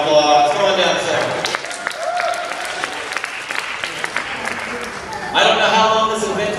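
An audience at a magic show breaks into lively applause and cheering for a volunteer, with a voice calling out over the start and the clapping swelling again near the end.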